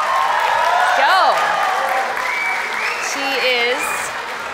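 An audience applauds panelist Qiava Martinez, a Las Vegas Raiders executive, at a women in football and gaming panel. The clapping is steady and dense, with a voice speaking over it throughout.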